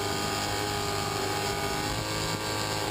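A super modified race boat's V8 engine, all eight cylinders exhausting into one header, roars in a steady, loud, continuous drone throughout.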